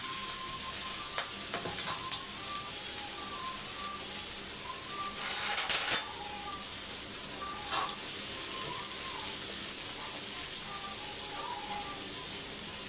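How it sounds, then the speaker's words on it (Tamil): Cumin, chilli and curry leaves crackle in hot oil in a pan with carrot for a carrot poriyal: a steady close sizzle runs throughout, with occasional sharp spatters and a clatter of stirring around the middle. "அது பொரிஞ்சு வந்தோடனே கேரட்டை சேர்த்துருங்க."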